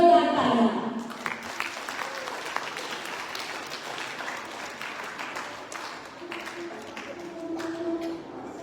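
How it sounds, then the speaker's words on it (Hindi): A school audience at a Republic Day celebration gives faint, distant applause after a play. The patter runs for several seconds, with an amplified voice heard briefly at the start and again near the end. "जोरदार तालियां।"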